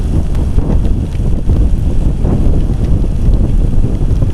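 Wind gusts buffet the microphone in a steady, loud rushing roar during light drizzle while riding around town, with no talk.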